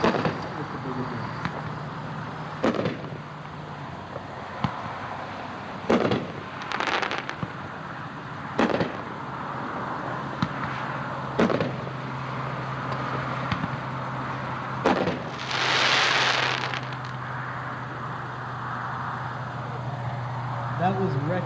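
Wrecking Crew seven-shot fireworks cake firing at a dealer demo show, a series of sharp bangs spaced a few seconds apart, one with a hissing burst, over steady background engine rumble and occasional voices.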